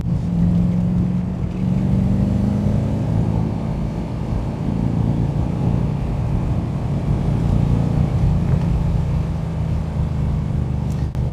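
A 1992 Marcos Mantara accelerates through the gears, its engine a loud, close drone with rising and falling tone at each shift, steady throughout with no talking.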